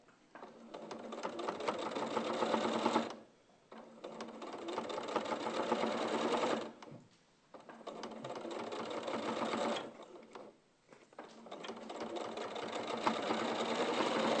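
A sewing machine runs in four long, steady bursts of rapid stitching up the side seam of a garment, with brief pauses between runs, close and fairly quiet.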